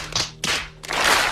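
An audience at a comedy show breaks into clapping in a few short bursts that swell into a fuller round near the end, fairly close and without talk.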